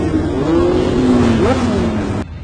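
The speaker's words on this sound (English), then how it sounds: "then we hear motorcycles and cars show up" Cars and motorcycles arriving in a scene from Kill Bill, engines droning and revving steadily for about two seconds with rising and falling pitch sweeps, then cutting off abruptly.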